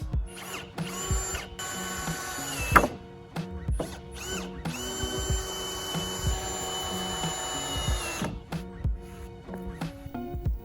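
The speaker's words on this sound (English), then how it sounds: "I went ahead and grabbed my angle grinder so I can go ahead and grind the rest of the screws down that were showing" An angle grinder whines loudly in long sustained bursts as it grinds down exposed screw heads on a wooden DIY desk, spinning up and down between passes with short pauses and no talk.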